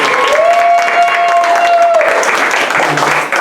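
Crowd applause for a graduating senior at a creative writing event, a dense clapping wash at moderate distance mixed with a sustained tone and some voice.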